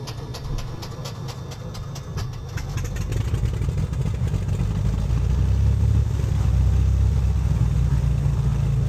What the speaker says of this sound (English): Okay, got a good start on both engines.